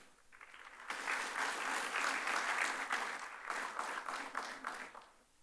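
Audience at an ICAI Dubai chapter gathering applauding a tenth consecutive Best Chapter Award. Fairly quiet, distant clapping starts abruptly, swells and holds steadily, then thins into scattered claps toward the close.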